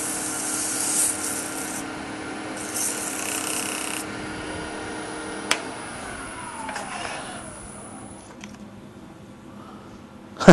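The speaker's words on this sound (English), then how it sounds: "I said something before about sanding at a slower speed" Steady soft rubbing and rasping of sandpaper on a wooden box at slow speed, continuous and close, easing off toward the end with a sharp knock at the finish.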